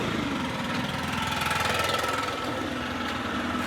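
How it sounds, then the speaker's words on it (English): A gas-powered backpack leaf blower runs steadily and loudly up close, its engine droning with a constant airy roar and no pauses. "How powerful this blower is."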